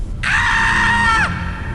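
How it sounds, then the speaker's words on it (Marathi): A man lets out a single loud, sustained scream lasting about a second, close and sharp over a low background hum, as a dramatized sound effect in a story. "जोरात ओरडला"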